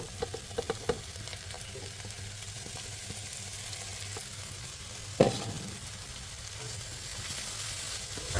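Spinach tipped into a pan of sautéed onions fries with a steady, soft sizzle, a few light clinks early on and one sharper knock of the utensil against the pan midway, with no talking.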